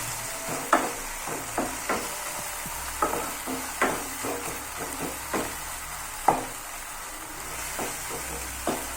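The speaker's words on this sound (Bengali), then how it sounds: "দিয়ে এটাকে ভালোভাবে, মশলাটাকে ভালোভাবে ভাজতে হবে" Ginger paste and spices frying in a pan, a low steady sizzle broken by repeated sharp scrapes and taps of a spatula stirring at an uneven rhythm, close, with no voices.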